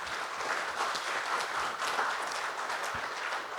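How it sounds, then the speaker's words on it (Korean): Applause from a church revival meeting audience cheering on a pastor, a full, continuous burst of many hands clapping that holds steady without fading. "격려하는 의미로 박수 한번"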